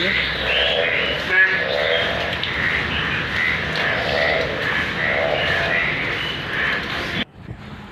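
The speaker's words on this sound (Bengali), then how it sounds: "আর ব্যাঙের ডাক শোনো" Frogs croaking in a steady overlapping chorus by a rain-flooded pond and grassy patch behind a rural house, a continuous dense outdoor din that cuts off abruptly near the end.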